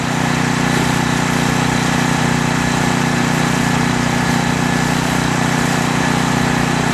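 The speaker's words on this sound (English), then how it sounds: "Miniker in the 69 Chevy Camaro. Good looking hot rod. Taking on Brandon Frame in the Chevy Lumina" At a drag strip, a turbocharged 1969 Chevy Camaro hot rod and a nitrous Chevy Lumina drone loudly and steadily as their engines run close by without a break.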